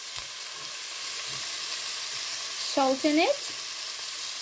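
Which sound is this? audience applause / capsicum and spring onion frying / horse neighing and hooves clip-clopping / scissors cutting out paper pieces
capsicum and spring onion frying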